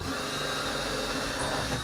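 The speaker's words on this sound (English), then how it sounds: "Drill a hole so I can see where the hell it is." A steady whirring power drill runs continuously and evenly while drilling a hole in a wall, a loud motor whine filling the short clip.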